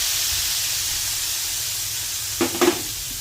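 Hot asafoetida tadka poured into a pot of Nashik-style ghevda bean kadhi hisses and sizzles in two quick bursts near the end, after a long stretch of steady low background hiss.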